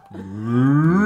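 A single cow's moo swells from a low start into a long, loud, drawn-out call lasting about a second, heard alone and close.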